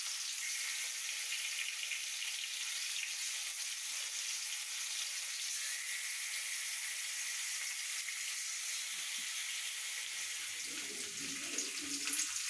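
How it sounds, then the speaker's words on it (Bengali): Fish frying in hot oil, a steady dense sizzle held throughout at moderate level, with a brief clatter near the end and no talking. "এখন মাছগুলো ভেজে নেব"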